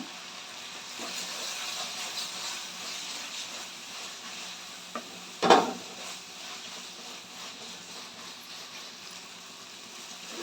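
Tomatoes soften in a pan with a faint, steady hiss of sizzling, interrupted once by a brief sharp clatter midway, otherwise quiet and even.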